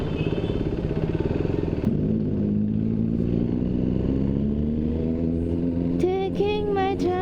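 A two-wheeler ridden through Mumbai streets, its steady engine drone running continuously with a slight pitch rise, joined near the end by a brief high chirping or horn-like tone over the road noise.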